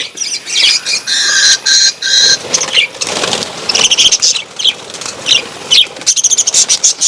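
Caged pet birds squawk and screech in sharp, overlapping bursts close by, with brief fluttering and scrabbling between the harsh calls.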